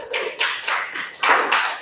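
Classroom applause for a student: a group clapping in several bursts, dense and close, with short gaps in between.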